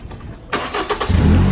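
A car engine cranks and catches during a rideshare vehicle inspection, with a sharp starter burst followed by a few uneven pulses before settling into a loud, steady idle rumble close by.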